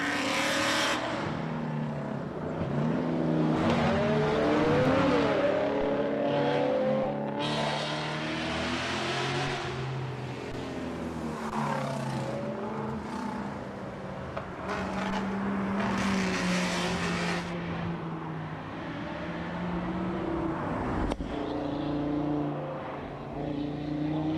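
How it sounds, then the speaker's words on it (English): Loud rally cars on a special stage in Wairoa roar and rev past over a crowd, engine notes sweeping up and down, with the Mazda MX-5 rolling away among continuous motor noise. "You can still hear it over the sound of the Mazda MX-5 that rolls away"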